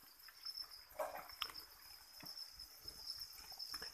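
Farmed crickets raised on chick feed chirp in a steady, high, continuous trill, with a few soft clicks and rustles underneath and no voices.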